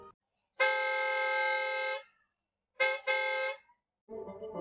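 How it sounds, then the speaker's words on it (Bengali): A car horn sounding in a Bengali ghost story, heard as one long sustained blare followed by two shorter honks, loud and clear, with faint murmuring afterward. "তাই আর দেরি না করে হর্ন বাজালো দেবল"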